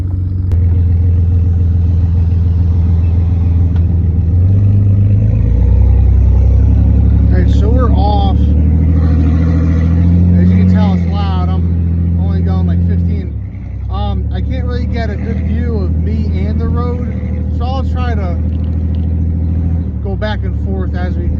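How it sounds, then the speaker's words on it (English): A Jeep's 4.0 engine with a straight-piped exhaust while driving, a loud, steady, low rumbling drone running throughout, with someone talking over it for much of the time. "Here's the sound of the Jeep."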